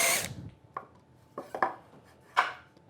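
A countersink cutting a screw hole in the underside of a wooden trestle foot, heard as a few short, quiet rasping bursts separated by pauses.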